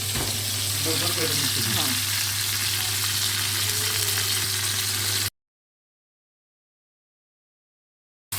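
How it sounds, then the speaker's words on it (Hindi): Spinach and fried garlic sizzle steadily in a frying pan, a loud continuous crackle with faint stirring, close up, then cuts abruptly to silence for several seconds. "वो लहसुन जो हमने फ्राई पैन में फ्राई किया था उसमें हमने ये पालक डाल दिए"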